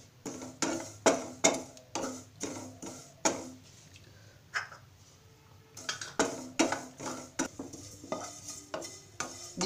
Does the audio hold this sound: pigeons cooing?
no